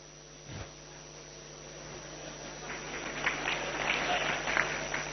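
Audience applause during a Hindi spiritual talk swells gradually from a quiet room into a sustained, moderately loud patter of many hands, with a low steady hum beneath.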